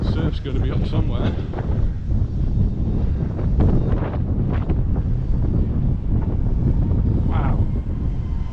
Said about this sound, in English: the wind's blowing right in here